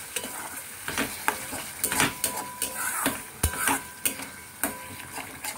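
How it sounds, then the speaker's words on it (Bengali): Fried fish pieces cook with yogurt in a pan for doi katla, soft sizzling under repeated scraping and clinking strokes of a spoon against the pan, quiet and close. "দইটা দিয়ে আমাকে আরও কিছুক্ষণ একটু ভালো করে মিলিয়ে কষিয়ে নিতে হবে।"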